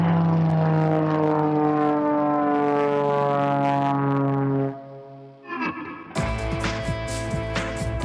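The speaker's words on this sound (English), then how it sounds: "Runway 17 right, clear for takeoff." An aircraft engine roars steadily at takeoff on runway 17 right with a strong harmonic drone, then cuts out and gives way to a harsher, distorted rumble with crackling bursts.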